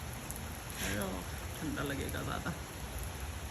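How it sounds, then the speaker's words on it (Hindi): Steady heavy rain hisses through the whole stretch as an even wash of noise, while a person speaks briefly over it. "देखिए कितनी तेज़ बारिश है ना, खासी तेज़ हो रही है"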